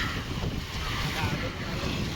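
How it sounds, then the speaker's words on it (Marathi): Rough, steady roar of wind and a churning rough sea at a beach, broadband and continuous with a gusty, blustery texture close to the microphone. "समुद्र बघ समोर केवढा खवळलेला आहे वारा सुट"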